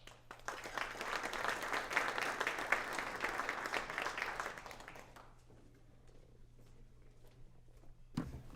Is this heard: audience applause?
yes